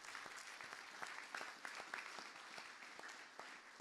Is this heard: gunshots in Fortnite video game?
no